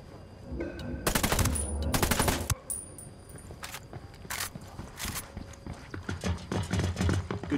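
Gunfire in the tactical shooter Ghost Recon Wildlands: dense bursts of rapid automatic shots, loud and close, followed by scattered lighter shots and clatter.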